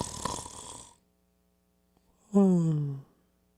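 A voice imitates snoring with one drawn-out, rasping, pitch-falling snore, heard alone after a burst of noisy breath and a short silence.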